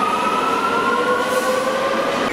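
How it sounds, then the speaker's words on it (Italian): A Rome metro train pulls away from a station, its steady rolling roar carrying high sustained wheel whines, loud and close with no voices. "Come di consueto scendiamo e la metro parte è subito."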